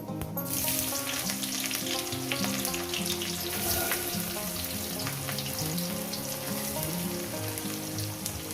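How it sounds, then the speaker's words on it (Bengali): Chopped onions frying in hot oil with five-spice for a Bengali eggplant and Bombay duck chachchari, a steady, loud, close sizzle that crackles without a break throughout, with no talking. "পেঁয়াজ কুচোটা দেওয়ার পর আমি এটাকে দু তিন মিনিট একটু ভেজে নেব"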